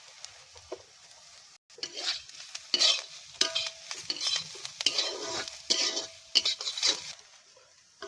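Chili and turmeric frying in a pan at home, with soft sizzling under repeated scraping and stirring strokes of a utensil against the metal, close and fairly quiet, in irregular bursts.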